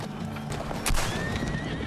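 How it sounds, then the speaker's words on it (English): Horses whinny loudly over a steady clip-clop of hooves, with one sharp, strong neigh near the middle standing out against the ongoing trotting. "These are the fastest horses in the world."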